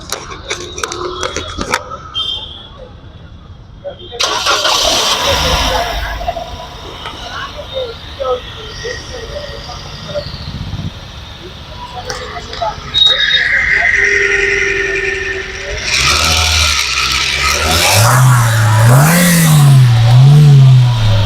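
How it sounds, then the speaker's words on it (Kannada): A well-maintained 2019 Toyota Yaris automatic with a petrol VVT engine cranks, starts and settles into a smooth, fairly quiet running note, while someone talks over much of it. "ಬನ್ನಿ ಫ್ರೆಂಡ್ಸ್ ಇವಾಗ ಸ್ಟಾರ್ಟ್ನು ಮಾಡಿ ತೋರಿಸ್ತೀನಿ ಸೌಂಡ್ ಹೆಂಗಿದೆ ಅಂತ."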